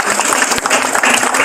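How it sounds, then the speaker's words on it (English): An audience applauds at a steering committee meeting, with dense, steady clapping that fills the whole short stretch at close range and no one talking over it. "Let's get a round of applause, please, ladies and gentlemen."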